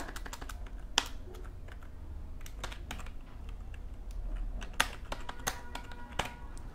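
Keys clack on a computer keyboard as someone types HTML code, with irregular soft taps broken by a few sharper, louder keystrokes, close up in a quiet room.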